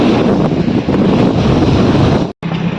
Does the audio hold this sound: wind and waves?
yes